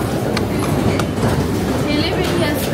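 A Paris Metro line 7 train rumbles on the tracks with a steady low roar and faint rail clatter, heard close from inside or beside the carriage while a person talks over it.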